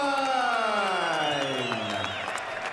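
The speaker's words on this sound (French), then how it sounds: "Hasselstein, bien applaudi par les gens ici au Centre Bell." Crowd applauding a boxer, Tyler Asselstine, at the Centre Bell in Montreal before a bout, steady clapping and cheering filling the arena under a commentator's voice with descending tonal sweeps.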